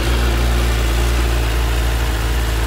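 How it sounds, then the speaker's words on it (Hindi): Suzuki Hayabusa superbike idling, a steady, low, rumbling exhaust note that runs continuously and loud, close up with no talk over it. "तो अभी इसके एग्जॉस्ट नोट ना बहुत लो है"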